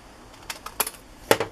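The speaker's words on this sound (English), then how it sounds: "So then I take this and cut it at an angle" Scissors snip at an angle through a small paper tag in a quiet craft setting, giving a few brief, sharp cuts spaced apart and close by, with the last two cuts loudest.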